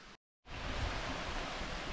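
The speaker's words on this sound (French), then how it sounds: "On entend une rivière." Steady broadband rushing of a river flowing between cliffs in Mafate, Réunion, constant and fairly loud after a brief silent gap at the start.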